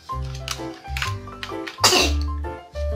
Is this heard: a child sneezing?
yes